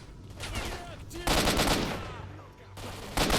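Gunfire in STALKER: Shadow of Chernobyl, loud rapid automatic bursts crackling in close succession with brief pauses between volleys, no talk.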